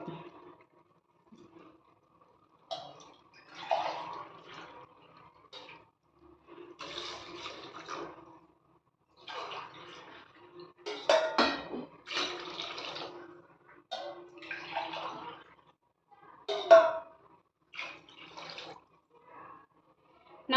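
Three tumblers of water poured into a pot for chicken biryani in several separate splashing bursts with pauses between, fairly quiet and close, no speech over it.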